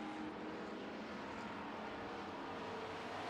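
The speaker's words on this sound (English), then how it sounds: "And on the inside, we've got the 81 of Jordan Duray, who's now taking the second spot over from Pete Dominic" Street stock race cars roar around a track during a heat race, a steady, dense engine drone that stays constant and somewhat distant throughout, with no speech.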